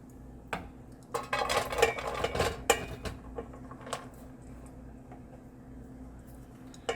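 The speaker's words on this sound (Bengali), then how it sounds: "এই পাত্রটাতে আমি ঘি পুরো চারিদিকে লাগিয়ে নিয়েছি দিয়ে আমি প্রথমে এবার এটাতে দেব ভাত" Cooked rice being spooned into a pot greased all around with ghee, a brief cluster of scraping and clinking utensil sounds against the pot, then near quiet with a few faint taps.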